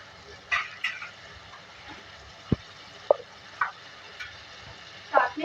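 Beef is stir-fried with water in a pan: a soft, low sizzle runs under a handful of sharp clinks and scrapes from a spoon stirring, spaced irregularly through the clip.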